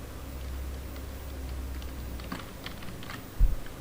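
Typing on a computer keyboard, a run of light, close key clicks at an uneven pace with one louder thump near the end, no talking.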